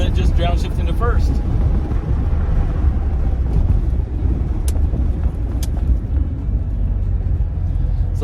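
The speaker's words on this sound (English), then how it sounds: "Kind of chirp the tires there a little bit, just downshifting to first." A red 1988 Chevrolet Corvette coupe driving and downshifting into first, a loud continuous low engine rumble with wind buffeting throughout, recorded from inside the car, with faint speech early on.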